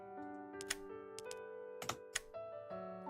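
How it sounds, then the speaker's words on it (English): Soft, crisp clicks from hovering over items in a video game menu, a handful of short ticks spaced irregularly over a steady sustained musical tone, quiet and close with no talking. "The clicking noises when you go over things is so satisfying."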